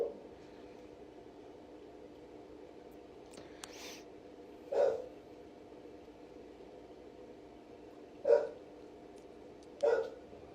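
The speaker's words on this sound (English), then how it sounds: "I don't know what my dog's barking at." A dog barks indoors, three separate short barks spaced a few seconds apart, moderately distant over a steady background hiss in a quiet house.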